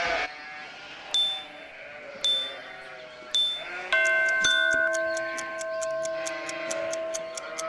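Cartoonish sheep bleats sound in a game-show round, several short bleats in a row with a ticking clock and musical tones following, loud and close.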